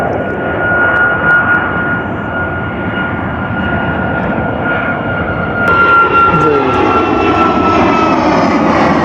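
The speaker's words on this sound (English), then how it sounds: "another plane." A fixed-wing airplane passes overhead, its engine roar loud, continuous and broad, swelling slightly toward the end with no voices heard.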